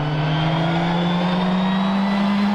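A Lancia rally car engine revs hard and steadily in rally footage, a loud sustained buzzing drone with a slowly rising pitch and no break.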